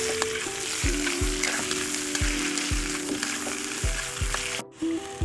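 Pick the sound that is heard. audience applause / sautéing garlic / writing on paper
sautéing garlic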